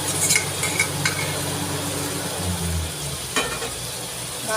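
Marinated chicken sizzles in a pan of onion-based gravy curry while a spoon scrapes and stirs it, steady close frying hiss with a few metallic clinks.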